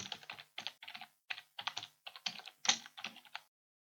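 Computer keyboard keys tapped in quick irregular bursts while a file name is entered on a desktop during an AutoCAD uninstall, close and fairly loud, with short pauses between clusters and no voices.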